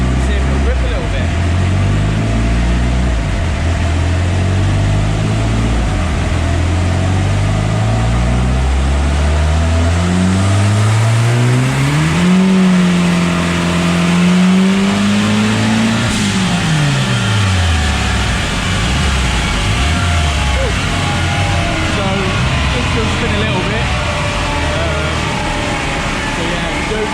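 MK2 Ford Escort running on a dyno, engine drone climbing steadily in pitch to a high rev plateau, holding, then dropping back, loud and close throughout, with someone talking over it.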